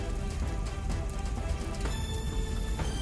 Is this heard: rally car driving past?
no